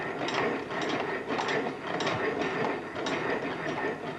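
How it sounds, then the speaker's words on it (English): Bryan Donkin geometric lathe worked by hand, its pulley mechanism turned by operator handles driving the spindle and a moving arm; steady close ratcheting, clicking mechanical noise with a rough repeating rhythm, no talk. "A pulley system, turned by the operator's handles, simultaneously drives the main spindle and the moving arm."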